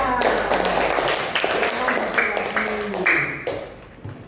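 Children in a classroom clap for a quiz team, a continuous mass of small hands clapping with an adult voice talking over it.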